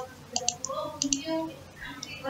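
Mouse clicks while working in ANSYS APDL software, several light, sharp clicks spaced unevenly across a couple of seconds, with faint electronic tones and background sound between them.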